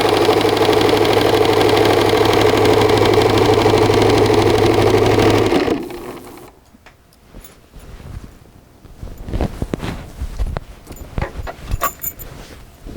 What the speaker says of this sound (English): Then you're just going to sew all the way down this end.